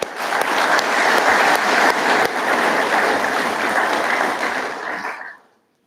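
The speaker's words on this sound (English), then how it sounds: "Get another round of applause for that, the crew that made them videos." Loud, dense applause from the crowd at a Class 219 graduation ceremony, continuous and close, then cutting off sharply near the end.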